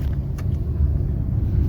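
A car pulling away after the clutch is released during a driving lesson, a steady low engine rumble close by with no talk over it.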